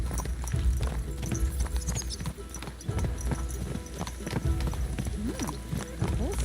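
Horse hooves clip-clop steadily over a hard surface with a faint whinny, a rhythmic clatter of footfalls close by, in Kingdom Come: Deliverance II.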